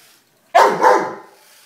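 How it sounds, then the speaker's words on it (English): A Greater Swiss Mountain Dog lets out a single loud, close bark with a short rolling tail, aimed at a remote control toy car, in an otherwise quiet room. "barking at the toy. The toy car."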